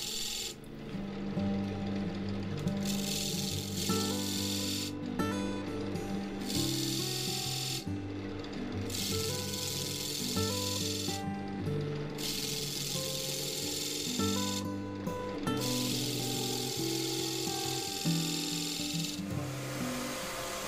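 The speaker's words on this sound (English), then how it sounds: "So more sanding with the bowl sander," A power bowl sander works an oak bowl, a steady close grinding whir broken by brief rhythmic lifts and returns of the pad roughly every two to three seconds.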